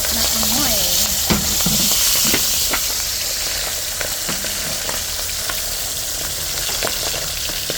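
Bangus (milkfish) belly sizzles and spatters in hot oil, a loud, continuous frying hiss with scattered pops and crackles throughout.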